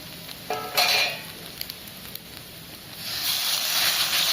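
Powdered spices hit hot oil in a pan for prawn malai curry, giving a sudden burst of sizzling and stirring, then a softer crackle that builds into a steady, loud fry.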